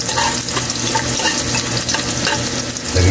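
Garlic and ginger frying in a pan give a steady, close sizzle with repeated stirring scrapes throughout, and no voices.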